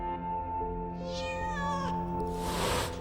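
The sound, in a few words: cat meowing in the video game STAY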